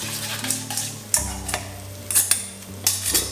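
Egg mixture stirred into spaghetti carbonara in a pan taken off the heat, with repeated close metallic scrapes and clinks of a utensil against the pan over a low steady hum.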